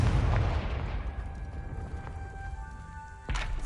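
A Confringo blasting spell exploding in Hogwarts Legacy gives a booming blast at the start that fades into a low rumble, followed by a second sharp burst near the end.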